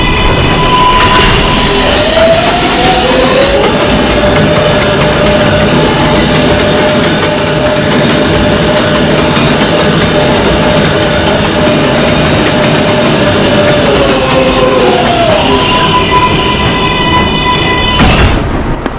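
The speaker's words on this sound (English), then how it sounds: "This is a Manhattan-bound 6 train" An R142A 6 subway train runs through the Manhattan-bound line, a steady loud rumble of wheels on rail with a rising and falling motor whine as it accelerates and slows, sustained throughout.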